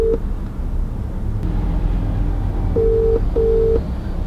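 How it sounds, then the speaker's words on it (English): Phone keypad tones beep while dialing a call in a moving car, a short tone near the start and two longer beeps near the end over steady road rumble. "Next person I'm phoning is James now."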